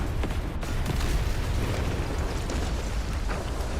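Chain-reaction detonator blasts in Star Wars Zero Company roll together into one dense, continuous explosive roar with crackling bursts and deep booms, loud and unbroken with no talk.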